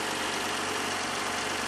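Chevrolet Traverse engine idling after repair, with its engine cover missing, a steady continuous rumble with even mechanical hum and no talk.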